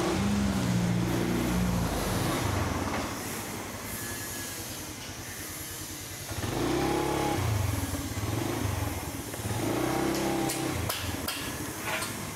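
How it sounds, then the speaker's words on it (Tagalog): A motorcycle runs close by with a rumbling, harmonic engine note that surges and eases in several waves, rising around the middle and again near the end, with no speech over it. "Ito na yung motor niya."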